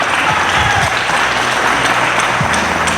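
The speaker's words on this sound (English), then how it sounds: "let's give a round of applause for two great coaches" Audience applause for two football coaches at a Unity Classic event, a loud, steady wash of clapping from a nearby crowd lasting about three seconds.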